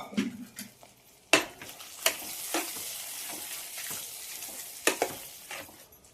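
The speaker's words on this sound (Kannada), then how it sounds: "ಒಗ್ಗರಣೆನ ಇವಾಗ ಪೊಂಗಲ್ಗೆ ಮಿಕ್ಸ್ ಮಾಡ್ಬಿಡೋಣ." Hot tempering being stirred into pongal for a festival offering, a sizzling fry with metal spoon scrapes and clinks against the pot, close and moderately loud, with no talking.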